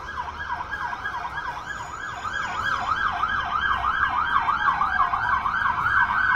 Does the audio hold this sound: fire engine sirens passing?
yes